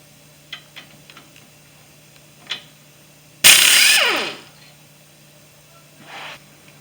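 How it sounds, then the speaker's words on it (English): An impact or power tool spins off 18mm caliper bolts on a 2008 Chevy Silverado 1500 4X4: one loud, sharp burst of about half a second, set between a few quiet metallic clicks and taps. "Next, I'm going to remove these 18mm bolts from this caliper."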